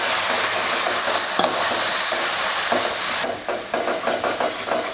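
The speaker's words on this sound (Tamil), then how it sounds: "மசால் போட்டு எண்ணெயில் இந்த மாதிரி நல்லா வதக்கிட்டு புளி சேர்த்துக்கலாம்." Masala sautéing in oil for a Tamil fish curry, a loud, close, continuous sizzle and hiss broken by a few stirring scrapes, easing slightly partway through.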